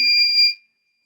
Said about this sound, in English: So obviously the buzzer generates the sound for 3 seconds approx.